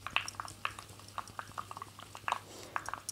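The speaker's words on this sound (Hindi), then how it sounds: "जब तक मैं इसको अच्छे से मिक्स कर रही हूँ" A homemade face mask paste is stirred and mixed in a small bowl, giving soft, irregular wet clicks and taps close up, with no talk.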